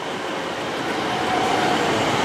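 A passenger train from London Paddington to Penzance rushes through a station at Bruton on the main line, a loud, steady roar of wheels and rail noise close by, building slightly.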